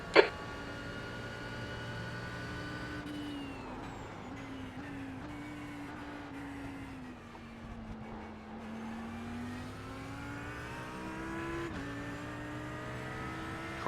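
Race car engines in the iRacing sim racing game on the Roval circuit drone steadily, pitch shifting as cars pass and accelerate, with a sharp click at the start and no talking.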